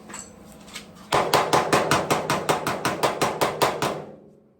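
A hammer taps a freshly welded patch on a 1972 VW Super Beetle body. About fourteen sharp metallic strikes come in a steady, even rhythm, close and loud, then fade to quiet.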